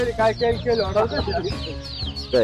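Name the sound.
chickens clucking at a poultry seller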